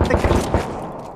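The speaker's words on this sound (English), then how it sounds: "There's just so much gunfire." Rapid bursts of automatic gunfire in the military shooter game Six Days in Fallujah, loud and continuous with rattling shots layered over a battle din, with some voice mixed in.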